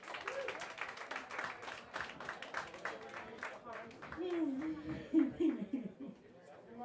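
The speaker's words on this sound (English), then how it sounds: "Round of applause for our helper." An audience at a live stage show claps for a helper brought up from the crowd, a steady wash of applause mixed with chuckles and scattered laughter that swells briefly toward the end.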